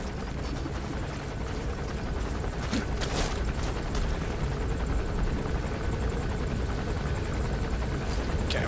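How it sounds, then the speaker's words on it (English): Enemy helicopter in the video game Metal Gear Solid V, its rotor a continuous beating drone filling the scene, loud and steady, with a few sharp gunfire-like cracks briefly cutting through. "I'm really getting sick of that stupid helicopter"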